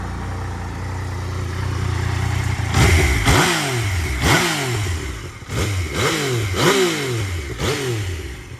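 A 2016 Yamaha MT-09 naked motorcycle's engine idles nearby while warming up, then revs repeatedly in sharp rising bursts, each throttle blip falling back toward idle.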